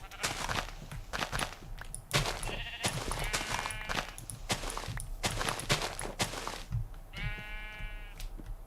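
Sheep bleating in a video game, several distinct bleats rising over a busy bed of footstep-like thuds and game noise, with the clearest calls near the middle and end.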